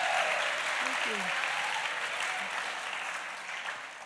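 Audience applause at an evening event with an artist at the Serpentine, a broad wash of clapping that slowly tapers off, with faint voices briefly audible underneath.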